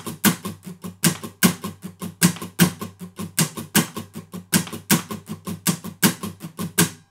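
Acoustic guitar strummed straight down and up in a Celtic jig pattern, with accented down strums. A steady, even rhythm of bright, close strums repeats for several seconds with no talking.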